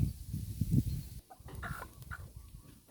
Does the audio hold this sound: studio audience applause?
no